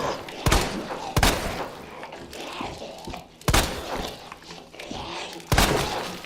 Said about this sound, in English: There, finally, an explosion.